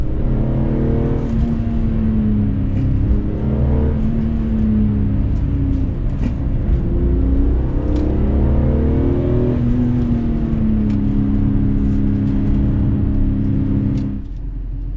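A 15-year-old BMW E46 M3 with a six-speed manual drives on the road, its engine rumbling and revving up through the gears in a steady, loud cabin drone that drops off at the end.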